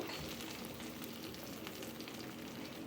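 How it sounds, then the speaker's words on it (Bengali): Egg-wrapped brinjal pieces frying in a pan, giving a quiet, even hiss of hot oil that stays steady without distinct stirs or voices. "এইভাবে মুড়িয়ে এটাকে সুন্দর করে ভেজে নেব"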